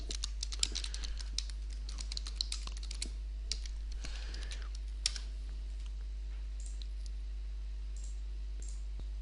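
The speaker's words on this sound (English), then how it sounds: "I'll type in a new question" Rapid clicking of computer keyboard keys in bursts, with a quieter stretch toward the end, close and alone with no speech.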